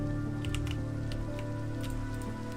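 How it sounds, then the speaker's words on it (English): Steady rain patters in Minecraft while droning background music plays underneath, soft and even for the whole moment. "It's raining."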